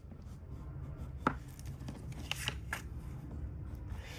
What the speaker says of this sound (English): I find it easier if I go ahead and score right along that chipboard to help it fold some